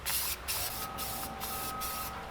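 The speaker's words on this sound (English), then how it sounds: "they were hit with some rust-converting spray paint" Rust-converting spray paint sprayed onto seat parts from a 1985 Pontiac Fiero, four or five short hissing bursts in a row with brief gaps, close and loud.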